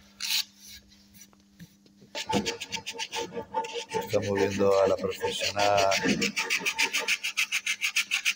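Quick, rhythmic rasping strokes of hand sanding on wooden benches being restored rub back and forth up close while someone talks over them.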